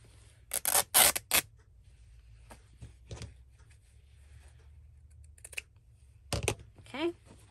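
Fabric being cut with scissors and ripped across by hand while making a junk journal, with several close crisp bursts of snipping and tearing separated by quiet pauses.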